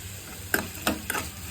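Onions frying in a pan for egg fried rice, with a steady low sizzle broken by three sharp stirring scrapes and clatters close by, no voices.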